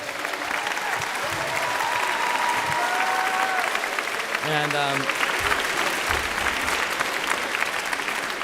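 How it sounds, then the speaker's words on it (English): An audience at a high school fall concert in a Pasadena church gives loud, sustained applause that fills the whole stretch, while a voice briefly speaks over it. "Just take a round of applause over here."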